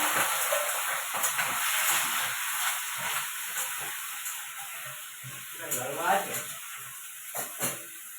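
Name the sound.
ash gourd frying in oil with lentils and chilies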